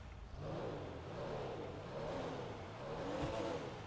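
Pfister Comet S2 Cabrio sports car engine in a video game, accelerating with a steady, continuous rising drone that holds at an even level throughout, with no talk over it.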